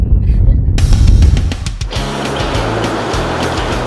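Waves break and wash along a surf beach in Timor, a loud roaring crash in the first two seconds that settles into a steady hiss of surf with a low rumble underneath.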